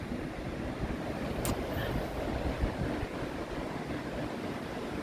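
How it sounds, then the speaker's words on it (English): Wind blows steadily across a microphone outdoors on a balcony, a constant close rumbling gusty roar with one brief faint high chirp partway through. "The wind's blowing a little bit"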